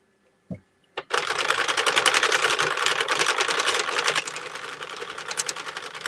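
A hand-cranked circular knitting machine is turned at a steady pace, giving a dense, rapid mechanical clatter that starts after a couple of sharp clicks and carries on with a slight rhythmic pulse.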